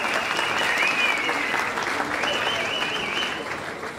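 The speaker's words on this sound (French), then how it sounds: "Applaudissons aussi très fort pour eux." Loud, sustained applause from an audience at a political party assembly, a dense wash of clapping that continues steadily throughout and eases slightly near the end, with a faint whistle or voice tone riding over it.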